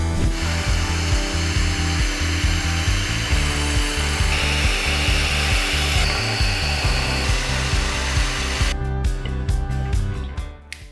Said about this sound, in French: Je fais la coupe avec la scie circulaire à main de 12 volts.